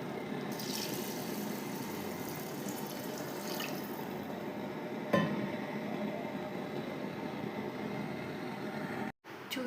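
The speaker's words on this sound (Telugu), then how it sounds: "ఇప్పుడు నేను 3 గ్లాసులు పోసుకుంటున్నాను వాటరు." Water is poured from glasses into rice for tomato rice, a steady splashing, running flow that stays even and fairly loud throughout, with a brief clink partway and a short break near the end.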